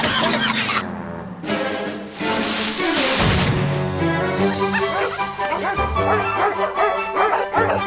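A cartoon dog named Frisky yips and barks excitedly over busy music and sound effects, with yelps and a whimper mixed into a dense, loud soundtrack.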